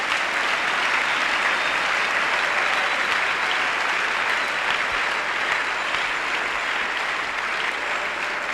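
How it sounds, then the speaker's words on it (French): A church crowd at an evangelistic crusade in Douala claps in loud, dense, sustained applause that continues steadily without pause throughout. "Oui, acclame."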